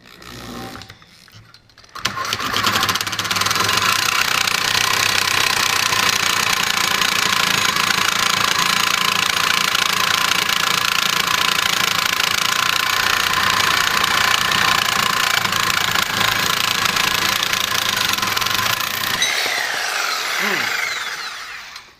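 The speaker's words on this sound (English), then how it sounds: "now let's just see what it does with this 3/4 inch steel." A reciprocating saw fitted with a Diablo carbide blade cuts through 3/4 inch mild steel, a loud, steady, harsh buzzing that runs continuously for about seventeen seconds after a brief start and then stops.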